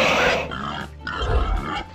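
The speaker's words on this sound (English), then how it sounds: "Pig," A pig grunts several times at close range, loud rough snorts in two bursts with a short pause between, heard alone without talk.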